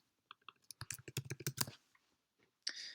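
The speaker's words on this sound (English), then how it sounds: "let's type that in." Fingers type on a computer keyboard, a quiet, rapid flurry of close clicking keystrokes, then a pause and one final short burst.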